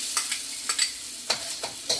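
Garlic and onion fry in a pan as a utensil stirs them, giving a soft, steady sizzle broken by several sharp scraping strokes at an uneven rhythm, close by and with no talking.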